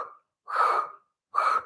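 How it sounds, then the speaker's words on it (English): Quick percussive breaths during a standing Pilates workout: short sharp bursts of air, one trailing off at the start, then two strong close breaths separated by brief silences, with no talking. "it's more of a percussive breath"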